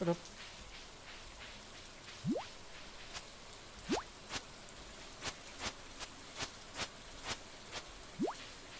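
Steady rain in the video game Stardew Valley patters softly in the background, punctuated by irregular sharp drips and taps, with a few faint rising tones and no talking.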